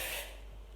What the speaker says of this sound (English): Spray it all the way through.